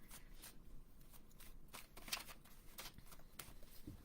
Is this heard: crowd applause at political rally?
no